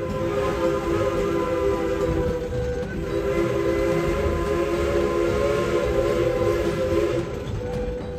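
Klondike Katie, a steam train at Dollywood in Tennessee, rolls along steadily with a continuous rumble and clatter and a tonal whistle-like hum throughout, close and fairly loud.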